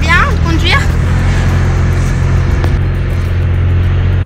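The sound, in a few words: car being driven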